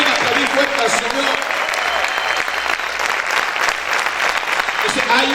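A church congregation applauds loudly for the Lord, a sustained, dense roar of clapping with voices mixed in throughout the burst.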